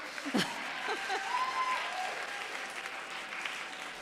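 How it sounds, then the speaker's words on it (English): Students at a school assembly give a sustained round of applause with a few cheers and whoops mixed in. A short voice rises above the clapping near the start, and the applause then settles into a steady, moderately faint patter. "Can we get a round of applause that APs are finally over?"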